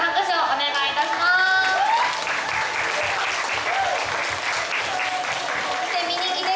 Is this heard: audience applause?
yes